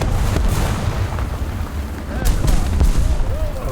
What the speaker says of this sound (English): Oh no, those are bombs.